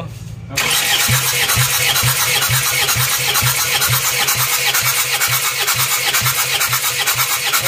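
An Isuzu Panther diesel car engine cranked on the starter catches and settles into a loud, steady rattling idle with an even rhythmic knock, close to the microphone.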